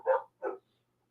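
Two short dog barks, the second slightly softer, sound in close succession in the background of an indoor podcast recording, then silence.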